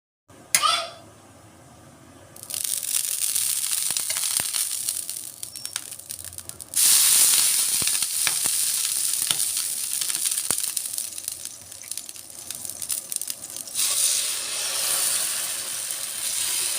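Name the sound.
dosa cooking and sizzling on a hot pan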